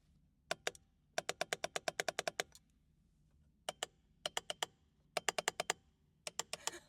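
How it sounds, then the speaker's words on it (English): Magnetic paddle shifters on a BMW G80 M3 click sharply in quick bursts of rapid taps with short pauses between, crisp and close in a quiet cabin. "magnetic paddle shifter ASMR"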